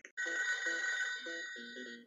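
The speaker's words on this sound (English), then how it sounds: "I hear that phone." A telephone bell rings continuously and fairly loud in a game, a steady bright trill running about two seconds, with a lower buzzing tone pulsing underneath in short bursts.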